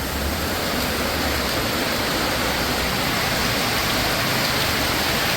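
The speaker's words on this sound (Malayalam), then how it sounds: "ഭയങ്കര മഴ എന്ന് വെച്ചാൽ ഭയങ്കര മഴ" Heavy rain pounds steadily on an auto-rickshaw, a dense, unbroken roar of water close by with no voices over it.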